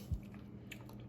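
Chewing a baked blueberry crunch dessert with pecans and cake, a single soft close bite followed by quiet mouth sounds in a very short moment.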